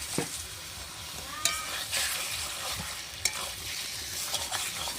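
Chicken pieces fry in a pan of spice masala for a village-style chicken and potato curry, giving a soft, steady sizzle with scraping stirs and a couple of sharp spoon clinks against the pan.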